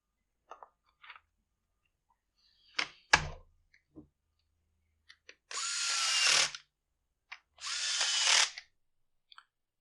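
A cordless drill drives screws into the starter housing of a Husqvarna T435 chainsaw, with two sustained whirring bursts of a few seconds each, preceded by clicks and clunks of handling, close up with no talk.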